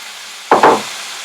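Meat for an Italian meat and pasta dish sizzles steadily in a pan, with a brief scraping burst as it is stirred partway through.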